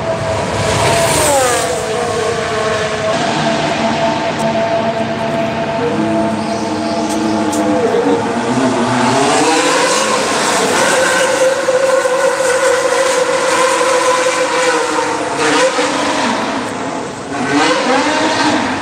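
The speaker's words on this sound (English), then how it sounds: "Two burnouts, and away he goes" A Mercedes W10 Formula 1 car shrieks at high revs, with its pitch rising and falling through two burnouts before it pulls away. It is loud and close, and the engine whine carries steadily across the whole stretch.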